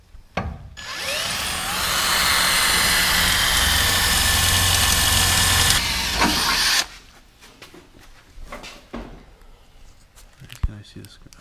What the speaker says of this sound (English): And now we're gonna finish the drill.